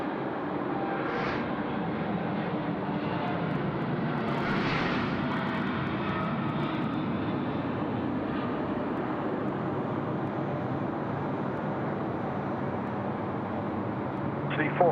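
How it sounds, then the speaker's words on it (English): A Singapore Airlines freighter rolling for takeoff at Sydney Airport: a steady, heavy jet engine roar holds for the whole stretch, with a voice talking over it at times. "Singapore freighter now rolling."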